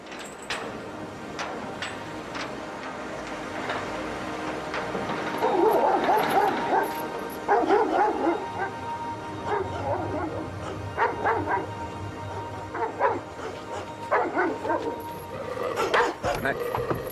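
A Doberman barking repeatedly near a parked car in Peterhead, the barks coming in irregular bursts at moderate distance, with people talking nearby.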